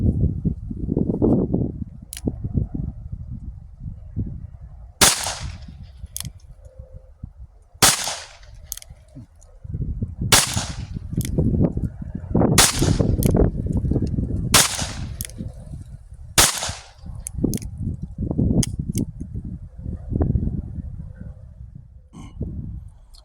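A Charter Arms Pitbull .380 ACP revolver is fired at close range. About eight sharp, loud shots ring out at irregular intervals of a couple of seconds, with low rumbling handling noise and movement between them.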